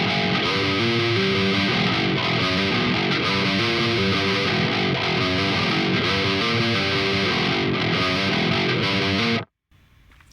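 A heavily distorted 8-string guitar plays the main riff from the pre-chorus, a loud, dense, repeating pattern of chugging low notes that runs steadily before cutting off abruptly near the end.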